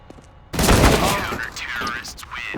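Sustained bursts of gunfire in a shooter video game, loud and close, a dense rapid volley that starts abruptly after a quiet opening and keeps rattling with echoing tails, with a voice talking faintly underneath.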